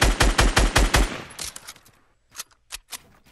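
Loud, close video game gunfire starts with a rapid burst of about eight shots and fades into a decaying tail. A few separate sharp shots follow after a short pause.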